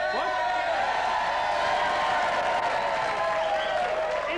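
A TV quiz show studio audience applauds continuously, steady moderate clapping filling the room while a voice speaks over it.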